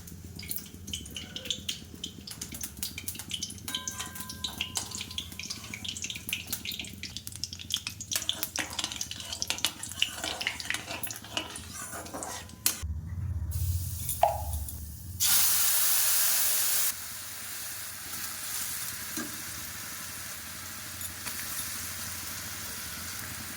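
Black cumin seeds sizzle in a little hot oil as the tempering for a hilsa curry, a close, continuous fry with stirring scrapes, then a louder hissing burst of steam and spatter near the end.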